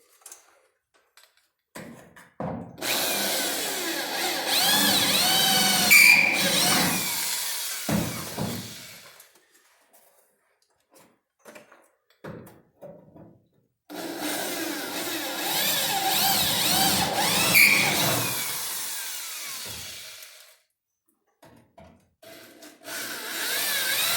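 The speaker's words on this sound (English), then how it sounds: "You just go back and drill it." Two long stretches of loud, grinding power-tool drilling into car body steel during quarter panel replacement, separated by pauses with small clanks and handling noises.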